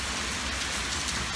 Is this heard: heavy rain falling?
yes